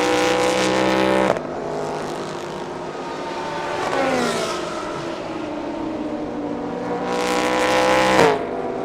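Thailand Super Series GT3 race cars scream past one after another at Buriram circuit, loud revving engines rising and falling with sharp gear shifts and Doppler sweeps, one pass ending abruptly, another building toward the end.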